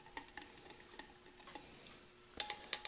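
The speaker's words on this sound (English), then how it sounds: "So we'll go ahead and give her a stir." Plastic spoon stirring a Sopakco beef ravioli in meat sauce MRE makes faint, scattered clicks and scrapes, a few sharper taps toward the end, quiet and close with no talking.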